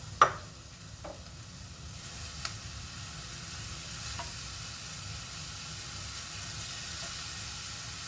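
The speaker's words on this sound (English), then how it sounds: "And then I will add my carrot on the top." Carrot is added on top of a vegan bean stew in a pot, giving a soft thud at the start, then a quiet, steady simmering hiss with a few faint knocks.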